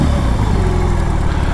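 A BMW R18 Bagger's big boxer engine in rock riding mode throbs with a deep, loud, steady pulsing rumble heard up close for a brief stretch.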